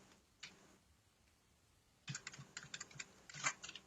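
Computer keyboard keys pressed in quick repeated bursts while someone assembles a PC that fails to boot, faint isolated taps at first, then a dense run of clattering keystrokes.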